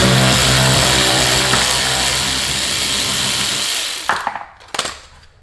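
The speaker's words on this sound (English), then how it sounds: "You can either use a regular wrench. I got an electric one" Electric wrench loosening a bolt on a Corvette, a loud, continuous close-up motor whir lasting about four seconds, then a couple of short clattering bursts as it stops.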